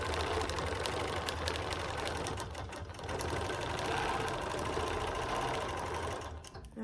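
A sewing machine stitches a redwork lace quilt in a steady, close, rapid mechanical whir, running continuously with a brief dip midway and slowing at the end.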